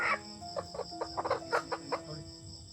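Chickens cluck in short, uneven bursts close by, several quick clucks clustered together over a faint background hum.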